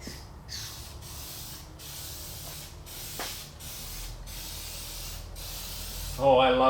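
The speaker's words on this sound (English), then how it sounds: "This is made by Spray Max. Spray Max epoxy primer." Spray Max epoxy primer hisses from an aerosol can in about seven short bursts with brief gaps between them, near and steady, followed by a faint rattle at the end.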